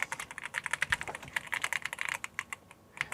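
Rapid, crisp clacking key presses on a Yunzii B75 Pro Max mechanical keyboard, close and clear, in an uneven typing rhythm with a brief pause near the end.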